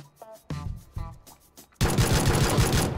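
Gunfire in PlayerUnknown's Battlegrounds: a few single sharp shots spaced half a second apart, then a loud continuous burst of automatic fire that runs to the end, close and dominant with no talk.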